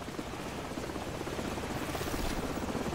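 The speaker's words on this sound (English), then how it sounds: "the helicopter's back" Helicopter rotor thrum in the Call of Duty 4: Modern Warfare game, a steady loud chopping drone hovering overhead throughout, with no voices.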